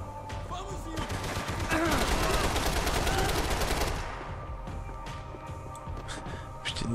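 Gunfire in the video game Max Payne 3 rattles in a dense, rapid automatic burst lasting a few seconds, loud and close, then gives way to scattered single shots and game ambience.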